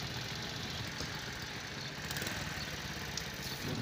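A motorcycle idles nearby in a steady low rumbling putter, with faint background clatter, outdoors at a street fruit stall.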